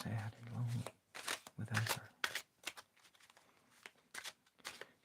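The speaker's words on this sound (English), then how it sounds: "Christina, tell me when to stop shuffling" Oracle cards are shuffled in repeated crisp riffling bursts, close and quiet, with a voice speaking between them.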